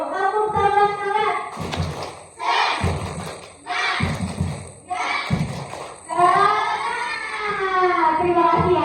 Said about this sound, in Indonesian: Tepuk tangan semangat.